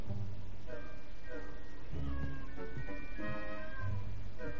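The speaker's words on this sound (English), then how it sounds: "Dude, that's my cat." A domestic cat meows several times in short, repeated calls close by, over steady background noise.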